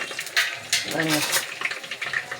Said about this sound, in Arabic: ونحط المكرونه، ونقلبها